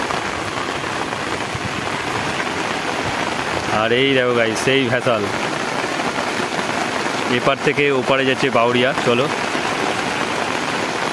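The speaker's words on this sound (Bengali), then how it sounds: "নদী জুড়ে পুরো বৃষ্টি হচ্ছে" Steady rain hisses over a river's wide surface, with someone talking over it and a passing engine hum in the middle.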